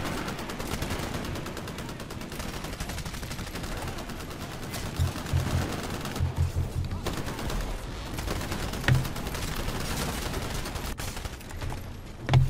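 Shotgun gunfire in the Titanfall video game, a dense continuous battle din of repeated shots and blasts with occasional louder bursts, loud and steady throughout the whole stretch.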